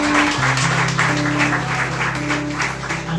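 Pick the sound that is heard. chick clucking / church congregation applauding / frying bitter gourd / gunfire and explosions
church congregation applauding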